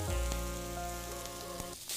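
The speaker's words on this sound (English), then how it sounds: "Smoking hot oil. Your onions and spring onion go straight in." Onions and spring onion hitting smoking-hot oil in a wok over high heat, a close steady crackling sizzle that stays loud for the whole clip, with no talking.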